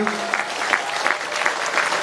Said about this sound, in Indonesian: Tepuk tangan untuk anak kita semua.